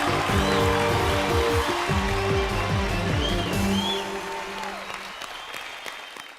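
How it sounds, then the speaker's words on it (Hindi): A studio audience at a comedy show applauds loudly and steadily for two performers, with music playing alongside and the clapping gradually fading toward the end. "जोरदार तालियां हो जाए मुबीन और अनीता के लिए।"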